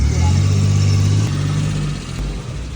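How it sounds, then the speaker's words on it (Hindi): A car engine revs and rumbles loudly up close as it is maneuvered into a parking spot at the side, settling lower toward the end, with a voice speaking over it. "मैं गाड़ी इस साइड पे लगा रहा हूँ।"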